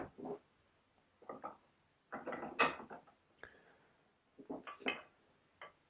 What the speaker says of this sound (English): Let me just pop this out of the vise a second.